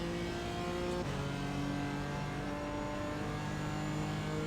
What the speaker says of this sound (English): It's a BMW M4.